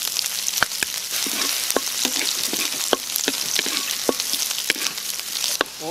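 Onion sizzles steadily in a hot pan, stirred with sharp scraping clicks from a utensil scattered through the crackle, close and continuous with no talk.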